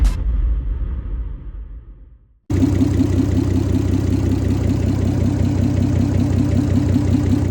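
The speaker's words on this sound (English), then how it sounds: "we can start it back up and see how it idles" A barn-find Nissan 300ZX twin turbo engine winds down to silence, then cranks and catches abruptly, settling into a loud, close, steady low idle around 500 RPM with a rhythmic, slightly lumpy pulse.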